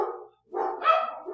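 Dogs bark indoors in a short burst of two or three loud, close barks with a brief pause between them.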